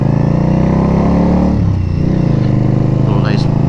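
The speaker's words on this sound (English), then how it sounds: "Little nice bike there." A motorcycle rolls past on the road, lost in a steady loud engine drone that runs throughout, while someone talks over it.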